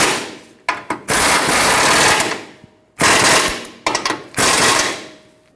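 Front lower control arm bolts on a 2012-2019 Fiat 500 are run tight with a power tool in four loud, close buzzing bursts, the first and last the longest, with short pauses between.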